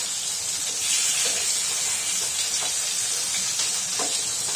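Chicken pieces fry in coconut oil over a medium flame, a continuous close, loud sizzle and hiss with faint stirring clicks and no talk.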